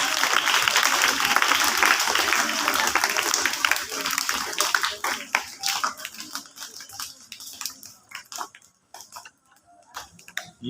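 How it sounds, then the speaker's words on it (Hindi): Audience applause at a spoken talk: dense clapping for about four seconds, then thinning into scattered claps that fade out, with a voice faintly under it. "तभी तो ताली लोग बजाने लगे"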